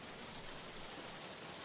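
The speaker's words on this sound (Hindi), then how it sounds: "बारिश और तेज हो गई" Heavy rain pours down in a steady, even hiss, faint and continuous with no distinct drops or voices standing out.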